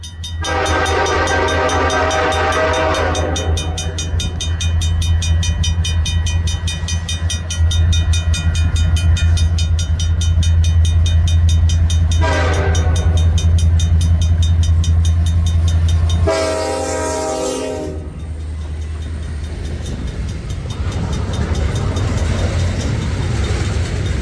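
A loud CN freight train rumbles past close by at Moncton's Gordon Yard, its horn blaring in long blasts over the steady roar of rolling cars.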